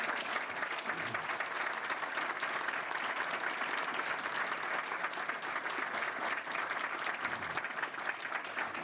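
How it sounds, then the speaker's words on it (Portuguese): A crowd gives sustained, even applause at the inauguration of the volunteer firefighters' band headquarters, many hands clapping steadily at a constant level for several seconds with no voices heard. "uma grande salva de palmas."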